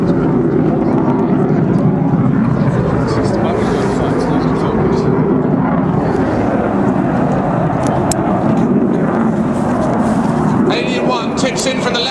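Military jet climbing at an airshow at Leuchars, a continuous broad engine roar heard over outdoor crowd noise, with an announcer's voice running under it throughout.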